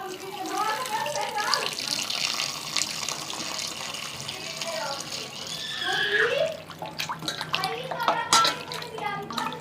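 Chicken pieces are washed under a running tap, with a continuous splashing water stream, rubbing and clattering in a sink, while someone talks over it.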